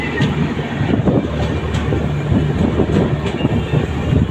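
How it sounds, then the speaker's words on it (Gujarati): Steady rumbling rattle of a train carriage on a passenger ride toward Dwarka, with a rhythmic clickety-clack of wheels on rail joints repeating throughout, loud and continuous with no talk. "અત્યારે હું બેસી ગયો ટ્રેનમાં બરોબર છે."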